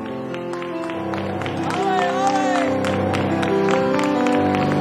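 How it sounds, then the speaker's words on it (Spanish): Gala crowd applauds and cheers through a sustained, fairly loud wash of clapping, with music tones and voices layered underneath. "Un aplauso para el público que ha estado ahí."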